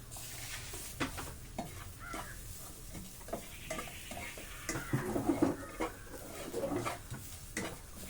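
Spices roast in a pan over a gas stove with a soft, intermittent sizzle and scraping stir strokes, close but quiet, while birds call faintly in the background.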